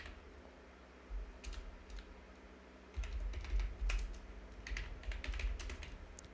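Someone types a narration on a computer keyboard while entering data in Tally ERP 9, producing quick clusters of close clicking keystrokes that grow busier midway and continue steadily to the end.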